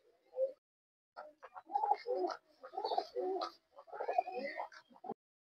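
Pigeons being offered for sale coo in repeated throaty, rolling phrases, several bursts in a row, fairly close and quiet, with short silences between calls.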